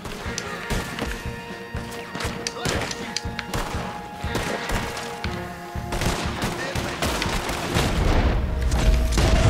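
Gunfire in Red Dead Redemption 2: a busy run of sharp shots and heavy booms, some in quick bursts, spread across the clip under a dense mix of game sound, with a louder low-heavy stretch near the end.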